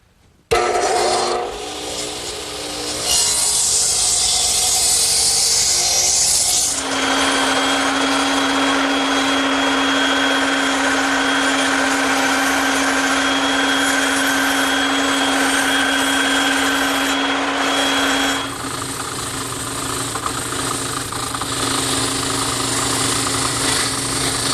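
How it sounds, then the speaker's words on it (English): A radial arm saw cuts wooden wheelbarrow side pieces at a bevel, a loud sustained motor whine with a steady tone that rises as it spins up and shifts pitch as the blade works through the wood. "I used my bevel gauge to set my radial arm saw for the cut along the front of each side piece."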